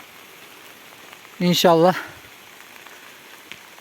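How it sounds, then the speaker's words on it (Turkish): Heavy rain falls steadily over a hazelnut orchard, a constant soft hiss of drops close by that continues under a brief spoken word from a man. "Şu an aşırı yağmur yağıyor."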